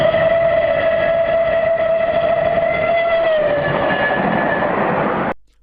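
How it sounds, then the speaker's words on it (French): A steam train rolls past blowing a loud, sustained whistle over the rumble of its running gear. The whistle's pitch falls noticeably as the train passes, then the sound cuts off sharply after about five seconds. "Continuons avec le train à vapeur."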